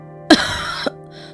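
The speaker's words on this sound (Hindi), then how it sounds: "माँ को बुरी तरह से खांसी हो रही है" A cartoon woman gives one harsh, rasping cough that trails into a strained wheeze, followed by a short second catch. The sound is close and stands alone.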